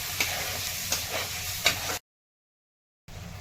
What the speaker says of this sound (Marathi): कांद्याची लसूण अद्रक छान आपल्याला परतून घ्यायचे